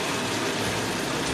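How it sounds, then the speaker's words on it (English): Tap water pours steadily into a container, a close, continuous gushing splash that holds an even level throughout. "Just going to fill it up with the tap water."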